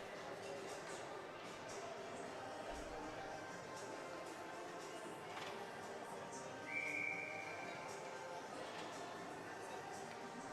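A referee's whistle gives one short blast during an under-15 youth ice hockey game, heard thinly through the steady noise of the rink and crowd.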